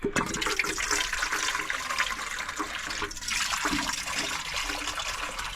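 Water pours and splashes steadily for several seconds into an animal's water dish, a close, continuous rushing flow.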